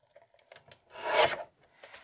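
A Tim Holtz paper trimmer slicing through patterned paper: light taps and shuffles, then a single smooth rasping cut lasting about half a second, close and clear.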